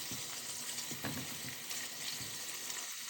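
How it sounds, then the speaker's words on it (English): Bacon fries in a pot while being stirred, giving a soft, continuous crackling sizzle with faint scraping and bubbling, quiet and steady. "Give the bacon a little twirl"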